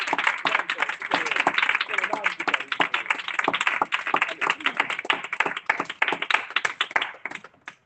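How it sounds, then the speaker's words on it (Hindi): A church congregation claps hard and fast, many distinct hand claps bunched together close to the microphone, with voices mixed in, before the clapping thins and stops near the end. "एक बार जोरदार तालियां"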